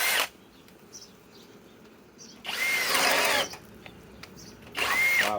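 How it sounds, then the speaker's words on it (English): A Master Force 800 inch-pound hammer drill with a 1-inch speed bore bit whines loudly in two bursts, a longer run and then a short one, each cutting out abruptly, with quiet gaps between and no talking. "Okay, now let's chuck it up to the master force. Okay, let's try it in speed 2."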